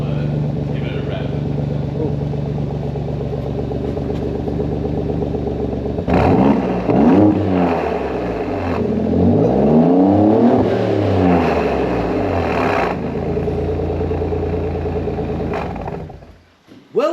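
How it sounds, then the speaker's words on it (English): A car engine is revved repeatedly in a workshop, the pitch rising and falling in loud surging sweeps over a steady idle before it cuts off near the end. "I'll give it a rev."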